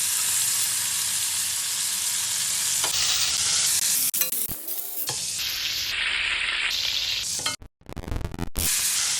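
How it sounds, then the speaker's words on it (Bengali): Salted, turmeric-rubbed prawns for a Bengali chingri malai curry drop into hot oil and fry with a loud, dense, close sizzle that runs almost unbroken, briefly interrupted by a few sharp clatters and gaps. "তেল গরম, এবার ছাড়ছি। ঝরঝর করে টু পিস করে ভালো করে ভেজে নেব।"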